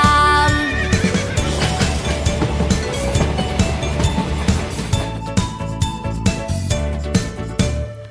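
A horse neighs and whinnies over an upbeat children's song backing with rhythmic clip-clop percussion, loud and close.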